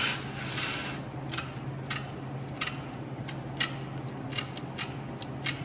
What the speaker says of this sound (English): you can take your tin snips and just come in